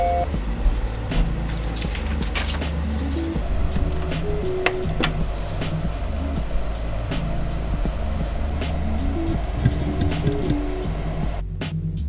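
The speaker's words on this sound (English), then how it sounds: "I wanted to test the actual print quality with the photo printer" A Canon PIXMA iP8720 photo printer runs a test print on glossy paper, its motor whirring and stepping steadily with faint clicks and mechanical shifts, alone without talk.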